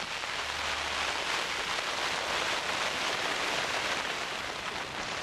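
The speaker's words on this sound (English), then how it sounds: "it's been raining and now snowing really" Heavy rain pours onto tents during a storm in the Uttarakhand mountains, a dense, loud, unbroken hiss of drops drumming on fabric close by, with no voices.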